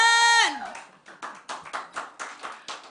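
Audience at a book launch clapping, a brisk run of sharp hand claps of moderate loudness following a brief sustained tone at the start.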